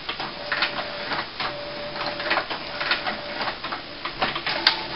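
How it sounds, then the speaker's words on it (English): An HP PSC 2575 inkjet printer's carriage whirs back and forth in repeated mechanical sweeps, with ticking and clicking, close and fairly steady. "You can hear the printer moving from left to right."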